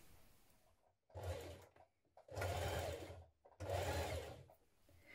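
Three separate bursts of a sewing machine stitching a 1 centimeter seam on a gathered ruffle dress, each running about a second, close and fairly quiet, with brief silences between.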